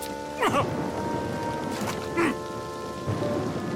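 Steady rain pours in a cartoon storm scene, forming a dense hiss with occasional brief voice-like bursts and a faint tonal backdrop.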